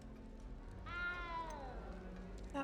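A cat in the video game Hogwarts Legacy lets out a single drawn-out, falling meow over a low background hum, followed by a brief sharp sound at the end.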